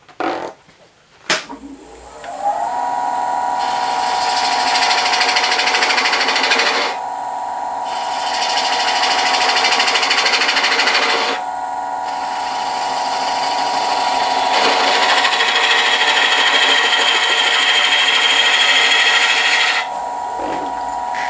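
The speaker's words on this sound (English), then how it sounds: "Just using a 1/2 inch spindle gouge to do that, shaped probably a little bit more like a detail gouge to put the dovetail on there" A wood lathe spins a blank while a half-inch spindle gouge cuts a dovetail tenon, giving a loud, steady scraping hiss over a constant motor whine that pauses briefly between passes.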